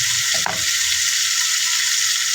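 Pork belly marinated in calamansi, oyster sauce, pepper and soy sauce sizzles loudly in hot oil, a dense, close crackle with a quick clatter at the start, no voices.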